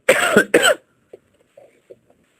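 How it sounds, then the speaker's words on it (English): Two loud, harsh coughs in quick succession, close by, followed by a few faint soft noises and near silence. "Apologies for the cough."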